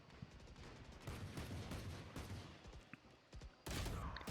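Bulldog rifle fire in Valorant on the Icebox map during a pro match, rapid bursts of close gunshots repeating through the clip, ending in a louder burst.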